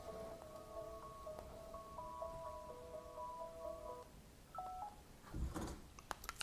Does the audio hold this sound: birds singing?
no